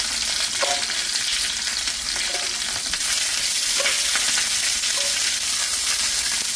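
Garlic and vegetables sizzle and char in a hot pan, a bright continuous frying hiss broken by a few soft scrapes and stirs.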